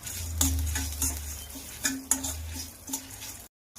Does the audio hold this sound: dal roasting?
yes